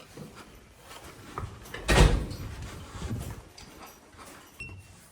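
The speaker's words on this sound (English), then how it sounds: "That door requires some pressure to open." A heavy hotel door in Paris or Berlin pushed open under pressure, giving a dull thud and a creaking swing against steady hallway background noise, with no voices.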